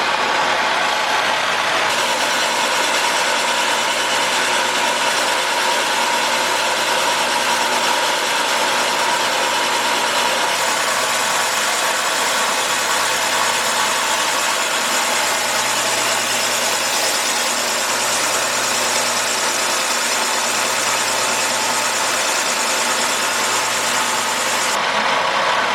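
A SIP Hydroptic 8 jig borer boring a Willys engine block, a continuous steady machine hum and whir with a faint low tone, unbroken for the whole stretch and no talk.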